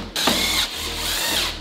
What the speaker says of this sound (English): We're gonna use a small self-tapping screw and put it into each hole.